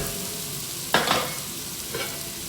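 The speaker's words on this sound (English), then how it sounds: "Stir them around a bit so they'll get coated in oil." Peppers and steak fry in hot oil for a chunky steak chilli, a steady close sizzle broken by two short scraping bursts of stirring, the first louder than the second.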